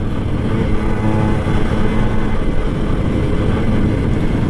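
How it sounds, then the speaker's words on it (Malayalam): A Suzuki Max 100 motorcycle with a hot engine, its exhaust giving a steady, loud, low throbbing drone that holds constant throughout while riding across a bridge, with no voices. "ഒരു എൻജിൻ ചൂടായിട്ട് എക്സോസിന് വരുന്ന ആ ഒരു സൗണ്ട്"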